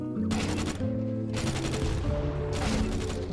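Rapid automatic gunfire from Counter-Strike 2 comes in three dense bursts separated by short gaps, loud and sharp over a low background music bed.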